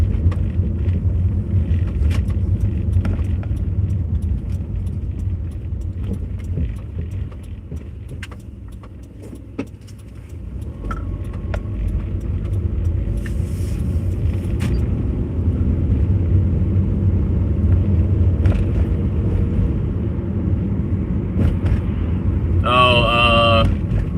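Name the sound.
car driving on the road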